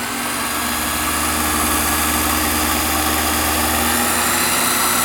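A rebuilt 2+2 engine runs at a steady idle through the whole stretch, loud and close, with an even low throb and constant mechanical vibration, and no talking over it.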